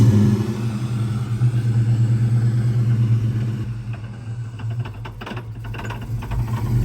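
A Cobra car engine drones low and strains, then sputters with uneven bursts of revving as it stalls near the end.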